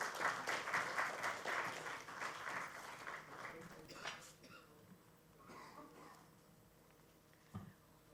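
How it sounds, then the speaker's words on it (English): An audience applauds a speaker at a panel discussion on the Indian economy: dense, loud clapping for about four seconds that then dies away, followed by quieter room noise and brief talk. "A huge round of applause for Dr."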